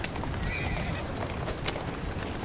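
Hooves of a horse driven hard through city streets in Assassin's Creed Syndicate, rapid clip-clop under a busy game soundscape with a faint whinny.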